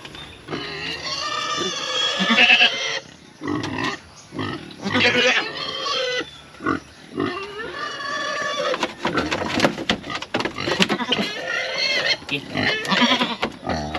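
Pigs grunt and squeal loudly and close by, in steady, overlapping bursts, with a voice speaking at times among them.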